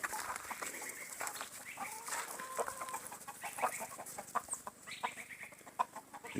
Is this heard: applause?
no